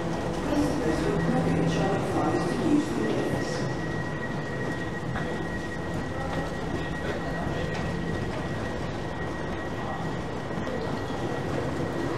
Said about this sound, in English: It's a very comfortable train.